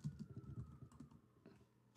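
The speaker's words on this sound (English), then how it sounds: "Oops, sorry about my typing." Rapid, uneven clatter of fingers typing on a computer keyboard, close and fairly quiet, with the keystrokes thinning out toward the end.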